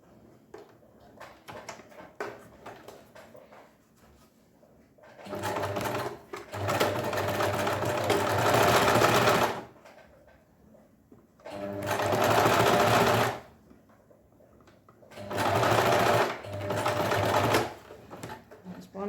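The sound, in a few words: sewing machine sewing straight stitch, sleeve seam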